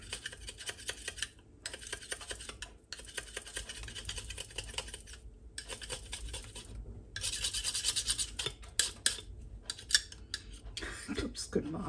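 A knife scraping stubborn dried paint off a brayer roller, producing rapid repeated rasping and scratching strokes in bursts with brief pauses, close and fairly loud.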